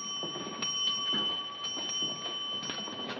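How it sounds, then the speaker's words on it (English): A ship's bell strikes seven bells in a 1942 film scene, its clear metallic chimes ringing out in a spaced sequence over a steady background hum, with no one speaking. "7 bells. It's 11:30."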